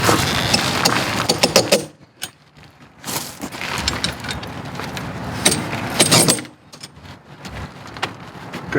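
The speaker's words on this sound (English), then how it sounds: "now you're going to tighten your cams" Cams on winter tire chains for super single tires are turned tight, giving bursts of close metallic rattling and clanking from the chain links with short quiet pauses between them.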